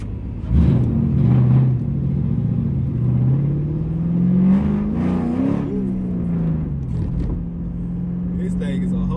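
A 2007 Mustang GT with an SCT tune drives down a street, its engine revving up and rising in pitch, then easing off and settling, loud and close throughout.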